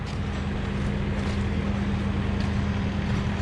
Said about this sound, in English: Skid loader warming up,